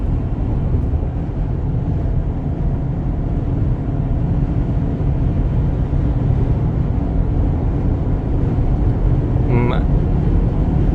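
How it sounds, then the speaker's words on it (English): A Subaru fitted with Mickey Thompson Baja Boss AT tires cruises at highway speed, giving a constant loud low road roar and cabin rumble, with a brief higher whine near the end. "So I'm at the highway speed and it's fairly quiet."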